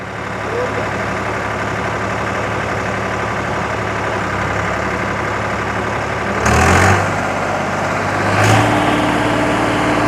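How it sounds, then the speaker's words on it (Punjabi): A Swaraj 855 tractor pulling a 9-foot super seeder in muddy ground runs steadily with a low, constant rumble, rising briefly twice as it revs, with no talking. "ਨਾਲ ਪ੍ਰੀਤ ਬਹਿ ਗਿਆ ਹੁਣ ਸਵਾ ਕੁਆਂਟਲ ਭਾਰ ਟਰੈਕਟਰ ਤੇ ਪਹਿਲਾਂ ਨਾਲੋਂ ਵੱਧ ਹੋ ਗਿਆ"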